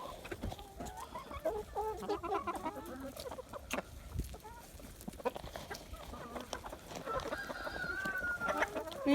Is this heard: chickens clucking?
yes